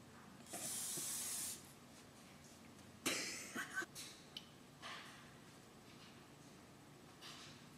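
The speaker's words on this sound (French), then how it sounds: "Versez 1/4 tasse de la pâte lisse sur un poêle légèrement graissé." Crepe batter goes onto a lightly greased pan. An early spray-like hiss is followed by a sharper sizzle as the batter lands, then fading, faint hisses with quiet pauses in between.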